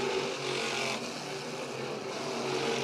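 Dirt track race cars drone through a turn, a steady blend of engine roar at mid distance with a slight swell and fade as the pack passes.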